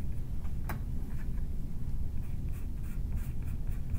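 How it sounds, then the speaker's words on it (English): Chalk pastel dragged across paper in layered strokes for a desert scene, giving a steady close scratchy rasp with a few sharper ticks. "I'm not blending the chalk in, I'm just making marks, and I can layer some of those marks"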